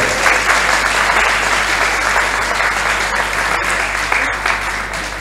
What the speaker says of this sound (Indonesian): Kasih aplaus yang meriah buat beliau.